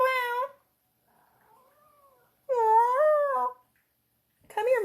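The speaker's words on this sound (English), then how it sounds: "Boy, she's meowing." A female cat meows repeatedly indoors: a loud drawn-out meow, a quieter wavering one, a long loud meow, then the start of another, with brief silences between.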